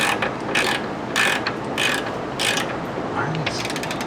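A ratchet wrench clicks in repeated bursts while a BC Racing coilover bolt is tightened on a Subaru STI, close and fairly loud, with short pauses between the ratcheting strokes.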